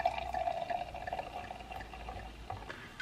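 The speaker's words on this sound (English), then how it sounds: "let's just give ourselves a little pour here" Sparkling blush cider with apple and cherry flavour pours into a glass, a close, steady liquid trickle with fizzy bubbling that runs throughout, no talking.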